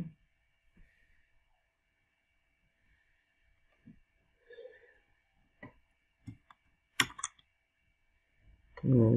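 Scattered quiet clicks and key taps on a computer mouse and keyboard come in sparse, irregular bursts against near silence.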